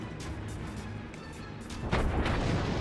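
Enemy warship guns firing at the player in the naval combat game World of Warships, heard as dense, continuous rumbling artillery with a louder burst of blasts partway through, sustained under the game's background noise.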